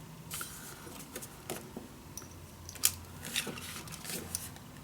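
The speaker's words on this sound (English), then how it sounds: "put a clamp on, just cut away" Scissors snipping through patterned scrapbook paper while making an ocean-themed mini album, a string of soft, close, irregular cuts with small crisp snaps and light rustling, quiet and without talk.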